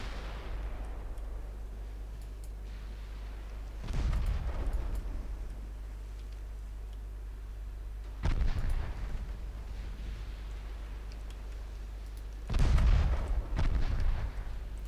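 Battleship main guns firing in the naval warfare game Ultimate Admiral Dreadnoughts: three heavy booming salvos roughly four seconds apart, each a loud broadband blast over a steady low engine rumble, with no talking.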